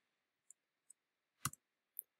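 Keyboard typing heard while entering an algebra expression into a calculator or computer: a few sharp, quiet clicks spread over two seconds, with one louder double click in the middle, close by and alone.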